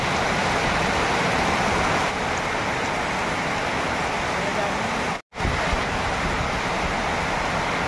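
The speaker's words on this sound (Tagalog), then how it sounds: "grabe ulan, oh. Inabot tayo ngayon, oh. Na bumaha na." Heavy rain pours in a dense, steady roar, broken once by a brief dropout before the downpour resumes just as loud.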